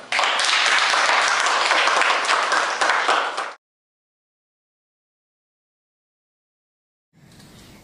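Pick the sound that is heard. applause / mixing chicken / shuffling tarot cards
applause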